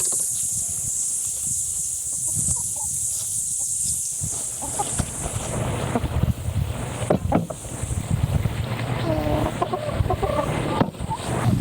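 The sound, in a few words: chickens clucking in a garden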